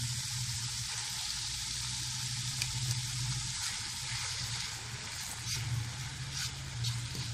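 Chicken sizzles in a pan after tomato paste is stirred in, a steady close frying hiss with faint bubbling and no talk over it.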